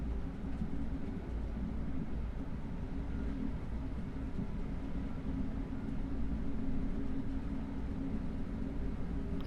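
A London Underground train in the video game Train Sim World 2 runs along the track with a steady, low, rumbling drone and no voices.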